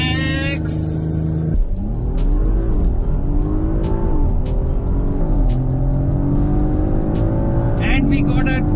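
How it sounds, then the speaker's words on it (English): An Audi RS 5 Sportback's engine roars hard as it pulls away from a standstill under launch control, climbing in pitch through several gear changes, loud and close. A voice talks over the acceleration. "the boost has to go all the way to max, and then you launch"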